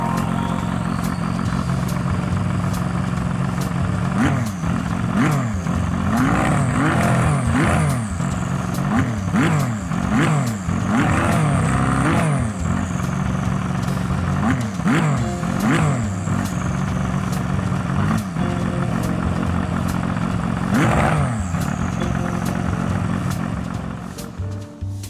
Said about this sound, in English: That very chunky sound comes over the Ferrari 499P from 2023